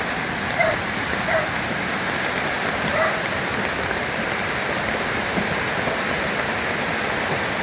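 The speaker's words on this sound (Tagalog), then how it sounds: "Grabe gid sa baha" Rushing floodwater after heavy rain and wind, a steady dense broadband roar of churning water, loud and continuous with no voices.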